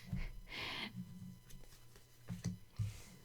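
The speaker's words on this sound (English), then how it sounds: "The birds, there it is again." Soft owl-like hooting and bird calls heard faintly in the distance, a few low hoots spaced irregularly over quiet background.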